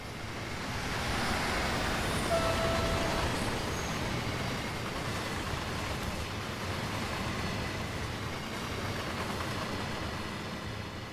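A BR 185.2 electric locomotive on the Rhine-Ruhr main line in Train Sim World 2 rumbles past, a broad steady roar building then holding at moderate level for several seconds.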